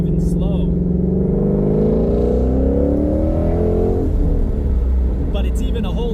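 A Ford Mustang Shelby GT350 engine hums at a low 2,000 RPM from inside the cabin, a deep steady drone that rises gradually then eases off, loud and close.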